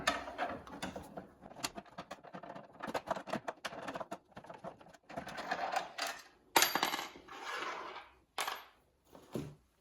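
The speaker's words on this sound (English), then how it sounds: "if we can get these 2 screws out" Screws being taken out of a JVC RC-M90 boombox with screwdrivers make close, small metallic clicks, scrapes and rattles in irregular bursts, with short quiet gaps between them.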